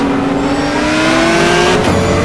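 A GT race car in the racing game GTR2 with a loud, steady engine howl near the driver that drops in pitch at a gear shift, then keeps roaring.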